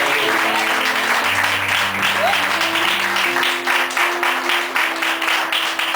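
Loud, sustained applause from a large crowd at an evening church service fills the space, steady and dense, with a faint musical tone lingering underneath.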